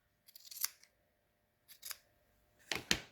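Scissors trimming the fringe of a crocheted doll's yarn hair, three separate close snips spaced apart with quiet pauses between them.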